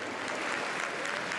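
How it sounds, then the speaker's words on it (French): Sustained applause from a large audience at an international D-Day anniversary ceremony greeting the Ukrainian president, a dense, even wash of clapping throughout. "accueilli avec des applaudissements nourris"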